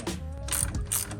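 A ratchet clicks in short bursts as it loosens an alternator bolt on a turbocharged Subaru STI wagon, close-up, with a brief pause between the two quick runs of pawl clatter.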